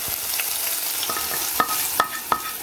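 A tasha of garlic and coriander fried in fat is poured onto molokhia, a steady close sizzle and crackle marked by a few sharp popping hisses near the end.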